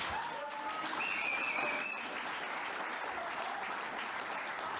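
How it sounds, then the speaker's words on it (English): Fairly faint applause from a crowd at a fight event for the two fighters, even clapping throughout with a whistle and some cheering mixed in early on. "let's have a round of applause for these two fighters"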